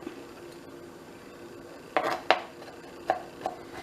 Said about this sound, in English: so I'm trying to mince it a little bit